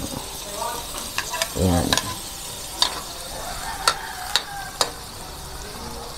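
Chopped onion and garlic hit hot oil in a pan for salmon-head miso sinigang, a steady sizzle with scattered clicks and scrapes of stirring; a voice speaks briefly.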